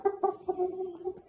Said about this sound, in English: And here's our little rooster, Stormy.